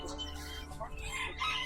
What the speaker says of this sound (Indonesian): Ini mah ayam ya Pak